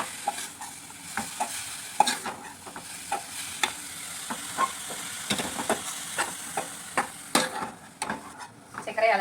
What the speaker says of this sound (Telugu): ఇది మంచిగా పచ్చివాసన పోయి అంతసేపు ఫ్రై చేసుకోవాలి